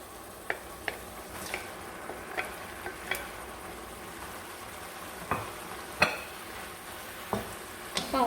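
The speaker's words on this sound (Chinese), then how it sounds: "放腐竹后继续翻炒" Yuba (tofu skin) and wood ear fungus stir-fried in a pan: a soft, steady sizzle broken by scattered sharp clicks and scrapes of the spatula, close by, with no voices.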